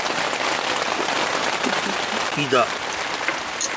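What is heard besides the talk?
rain falling on a campsite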